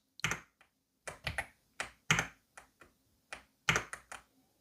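Several keys on an AULA F75 keyboard clack in short irregular clusters, close-up and crisp, with quiet gaps between presses.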